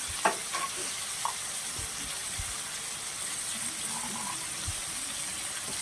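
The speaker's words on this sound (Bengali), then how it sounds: "আমি এখন কড়াইশুঁটি দিয়ে দিলাম।" Green peas hit a hot pan for a vegetarian aloo dum and sizzle with a steady, moderate frying hiss, broken by a few faint clinks and taps of stirring, with no voices.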